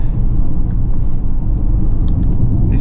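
Mercedes G350d diesel engine while driving, a loud, steady low rumble of engine and road noise from inside the cabin, continuous throughout with no voices.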